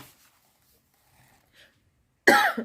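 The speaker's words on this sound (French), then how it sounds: "je tousse souvent, là je me retiens" A single sharp cough near the end, close and loud, after a stretch of near silence with faint rustles.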